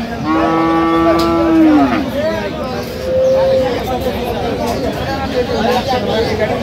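A dairy cow and calves at a Dinajpur cattle market: a loud, close moo opens the clip, a shorter, fainter call follows, and a hubbub of voices runs under both.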